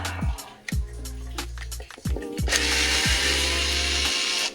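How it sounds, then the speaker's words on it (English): Small screws being worked out of the mirror mount on a 2024 Honda Goldwing, with a few short tool whirs and metallic clicks, close and fairly loud, ending in a sustained broadband rush. "we're gonna take these little screws out right here."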